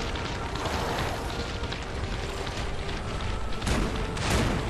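Cannon fire and heavy booms in the video game Lies of P, a dense, continuous rumbling barrage with a louder blast near the end, all at steady high volume.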